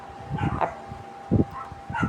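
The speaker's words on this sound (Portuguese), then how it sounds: "as cachorradas tá tudo doida" Several dogs barking in short bursts, a cluster of yelps near the start, another loud burst in the middle and more at the end, fairly close, with no talk over them.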